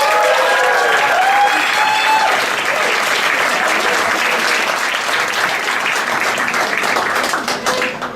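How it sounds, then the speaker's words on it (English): A comedy night audience breaks into loud, sustained applause for a comedian, with dense clapping that holds for several seconds and then starts to thin toward the end. "Give him a really very warm applause for Mike Coxius!"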